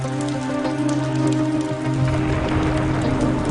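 Heavy rain pours down at night in a steady, dense wash that fills the whole clip, loud and close with no voices over it.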